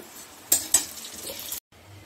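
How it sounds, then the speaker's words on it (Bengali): Tempering spices (phoron) sizzle as they hit hot oil in a pan, with two sharp crackling bursts and then a steady frying hiss that cuts off suddenly. "এখানে আমি ফোড়নটা দিচ্ছি।"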